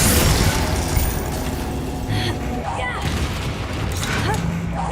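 A Confringo blasting spell explodes in the Hogwarts Legacy video game, a heavy boom at the start trailing into rumbling combat noise and bursts, with a character's voice mixed in.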